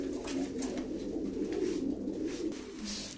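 Pigeons at a live pigeon auction keep up a dense, steady cooing, a low warbling murmur that runs without pause from start to finish.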